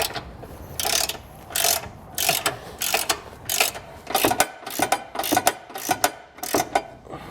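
A hand ratchet fitted with an 18mm socket turns bumper nuts off a 2021 Jeep Wrangler, giving repeated bursts of rapid clicking, each a second or less, with short pauses between strokes, close and fairly loud.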